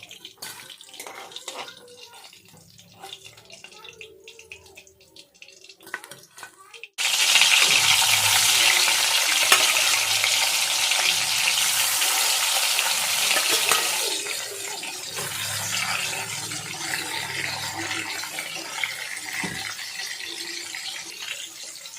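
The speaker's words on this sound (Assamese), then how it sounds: "বাকীকে দিছো ভাজি লম এতিয়া" Pieces of rohu fish fry in hot oil, and after a quiet stretch the sizzle bursts into a loud, steady crackling hiss that settles slightly but continues close by.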